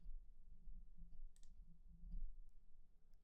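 Computer mouse clicks while working in Logic Pro X, a few faint sharp clicks spread across a low background hum, with no talk.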